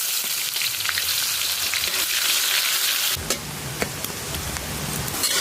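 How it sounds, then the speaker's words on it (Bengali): Onions frying in hot oil with whole cumin and bay leaf for a home-cooked duck curry, a steady loud sizzle with scattered crackles and a few sharp stirring clicks near the end. "পেঁয়াজ সুন্দর করে লাল লাল করে ভাজা হয়ে গেছে"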